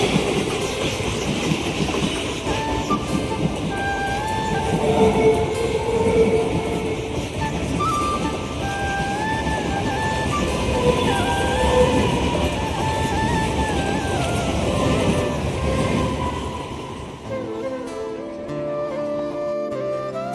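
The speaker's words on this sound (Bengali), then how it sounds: "আমরা রেল লাইনে ঘুরতে এসে দুটো ট্রেন দেখে নিলাম" A train passes on railway tracks near a bridge: a loud, close roll of wagons with rhythmic clickety-clack and a droning engine for most of the stretch, fading to quieter background noise near the end.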